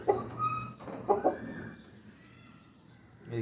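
Backyard chickens, a hen and a rooster kept outside, give a few close clucks and short calls in quick succession that fade into quiet coop ambience.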